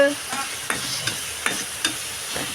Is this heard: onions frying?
yes